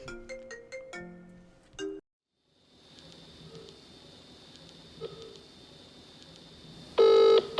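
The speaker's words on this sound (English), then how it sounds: "I'm receiving a call in a foreign country" Phone ringtone for an incoming call in a phone call horror game, with a short run of bright electronic chime notes, then a quiet stretch with a faint high tone, before a loud burst of ringing at the end.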